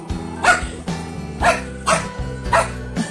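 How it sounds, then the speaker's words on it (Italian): A dog barks in sharp, loud bursts about once a second, each bark followed by a rough growling rumble, close and alone with no talk. "Non si ringhia e soprattutto non si mozzica."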